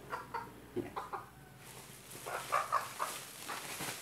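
Young pullet hen clucking while being put into a sack on a small farm, several short soft clucks and a few squawks close by, with rustling and no talk.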